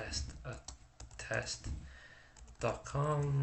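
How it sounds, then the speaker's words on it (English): Keys clatter in short bursts on a computer keyboard, close and moderately loud, mixed with a person speaking over the typing. "We could type in anything at all."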